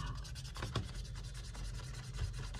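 A Dremel 1x30 belt grinder sanding a leather sheath, giving a continuous close rubbing hum with a steady rhythmic scratching texture and no speech.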